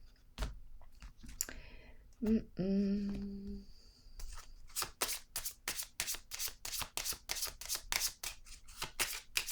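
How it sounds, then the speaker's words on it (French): Playing cards handled during a card reading: soft taps and a card set down early on, then a long run of rapid, crisp riffling clicks from shuffling, with a brief voiced sound in between. "Je vais déposer une autre carte"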